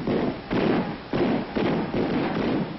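Old-style infantry weapons fire in a historical demonstration by Civil War reenactment volunteers, heard as a series of five dull, heavy booms at regular intervals over a continuous outdoor rumble.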